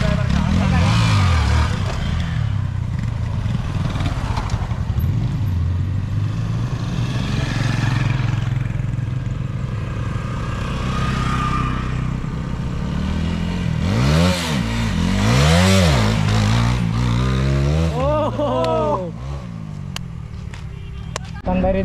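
A motorcycle fitted with ABS revs hard for a wheelie at a practice ground in Rangamati, its engine rising and falling in loud, close surges. Excited voices talk and shout over the engine throughout.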